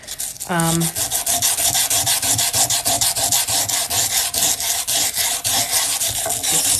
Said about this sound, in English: So I just sanded all the black metallic off because we're going to redo it.